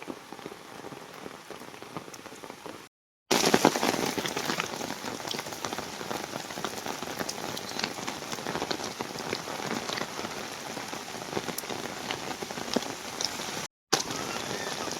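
Steady heavy rain pours down in Aarey, a dense hiss of drops drumming on surfaces as water pools in potholes, broken only by a couple of brief silent cuts.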